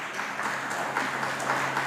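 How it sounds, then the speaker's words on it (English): A short stretch of steady applause from the audience at a live COVID-19 vaccines and testing town hall meeting, moderate in level with a faint hum underneath. "please do, if you wish, offer a round of applause"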